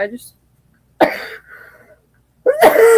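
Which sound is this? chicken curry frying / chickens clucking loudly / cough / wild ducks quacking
cough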